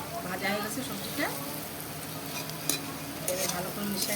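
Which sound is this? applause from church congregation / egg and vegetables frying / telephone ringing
egg and vegetables frying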